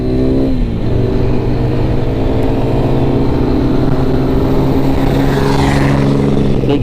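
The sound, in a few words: big diesel truck passing by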